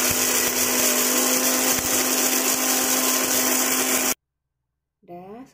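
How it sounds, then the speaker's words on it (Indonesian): Electric blender whirring loudly and steadily while blending ingredients for Indonesian ayam ungkep, cutting off abruptly, followed by a brief spoken voice. "ini aku blender dulu ya"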